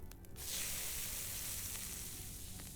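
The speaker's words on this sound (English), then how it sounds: "Oh, so there is a roasted pike. Let's roast 3 pikes." Pike fish roasts over a fire in the medieval game Medieval Dynasty, giving a constant dense sizzling hiss that stays loud and even throughout, with no voices.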